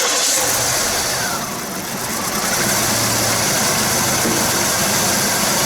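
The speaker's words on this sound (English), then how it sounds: "Let's listen for which one doesn't drop at the engine RPM." A GM 3800 engine idles steadily during a cylinder balance test, its even hum close and constant, with a brief slight dip in the middle and no talk over it.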